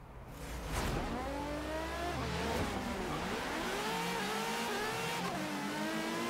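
A car engine in the Forza Horizon 3 racing game revs hard and climbs through gears, loud and continuous with rising and falling pitch sweeps and tire noise.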